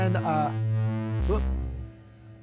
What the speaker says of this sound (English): Let's try a plate. Let's go a bit hotter on the reverb.